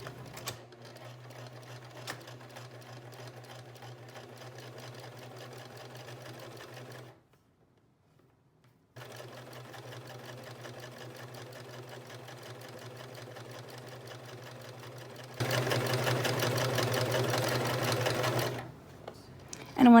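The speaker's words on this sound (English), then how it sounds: "I'm going to sew along all 4 sides, but I'm going to leave a few inches unsewn on the sides so that I can flip the top inside out" A sewing machine stitches the seams of a fabric backless crop top, running in long steady bursts with a brief stop partway and a louder, faster stretch near the end, close by with no talk.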